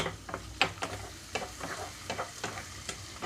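Carrot, potato and tomato pieces dropped into a pan of frying onions for a millet rava upma, giving a steady close sizzle broken by a series of sharp scraping stirs and clinks.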